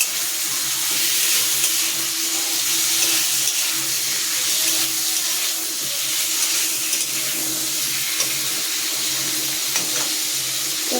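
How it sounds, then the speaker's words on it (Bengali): Chopped tomato tipped into a pan of lightly fried potatoes, setting off a loud, steady sizzle with faint stirring scrapes running throughout. "এই যে আলুটা দিয়ে দিয়েছি একটু ভেজে নিয়েছি এবার টমেটোটা দিয়ে দিলাম"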